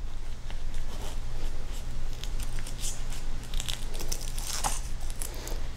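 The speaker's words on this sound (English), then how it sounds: "So what you're gonna do is cut a third of that pineapple off." A sharp knife cutting down through a whole pineapple with its leaves intact, giving faint crunchy, fibrous scraping and tearing sounds close by over a steady low background hum.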